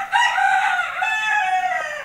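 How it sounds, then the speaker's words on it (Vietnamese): A rooster crows in a rural farmyard where ducks are also kept, giving one long, loud, close crow that lasts about two seconds and stands alone with no talking. "Cái gáy chả đúng giờ giấc gì cả."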